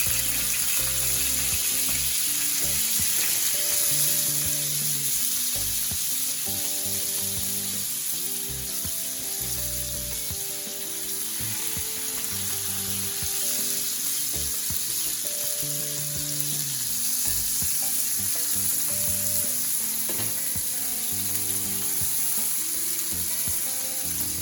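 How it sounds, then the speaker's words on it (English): Scallops sear in hot canola oil in a pan, with a loud, continuous crackling sizzle throughout and faint tonal background sound beneath it; no one speaks. "I'm gonna add the scallops. I'm gonna add it to the sear side."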